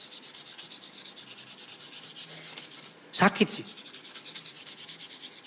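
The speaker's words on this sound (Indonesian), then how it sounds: "Amplas." Rhythmic back-and-forth rubbing of sandpaper, steady close strokes, broken briefly by a short spoken phrase in the middle.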